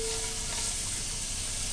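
About eight whole green chilies frying in oil for chicken spaghetti, a short, close, even sizzle with a steady hiss throughout.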